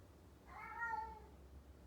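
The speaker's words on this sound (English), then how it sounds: "You hear the cat?" A cat gives one drawn-out, mid-pitched meow that rises and then fades. It sounds somewhat distant and quiet against a low background hum, with no talking.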